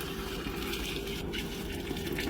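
Boiling water poured into a pot of pigeon kabsa with onions and salt, a steady close gushing fill that runs continuously for the whole moment without pause.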